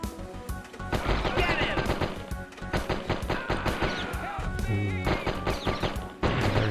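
Repeated bursts of gunfire in the Die Hard Trilogy video game, loud and dense, with crashes and impacts mixed among rapid shots throughout.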